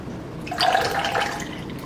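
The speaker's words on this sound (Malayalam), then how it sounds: "ലൈം ജ്യൂസ് ഒഴിച്ചു കൊടുക്കാം" Lime juice pours in a short, steady trickle into a glass, close and moderately soft, fading at the end.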